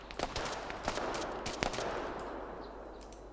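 Close, rapid bursts of automatic gunfire in the military shooter ArmA 3, sharp cracking shots in quick clusters over a steady rumbling background, with no voices.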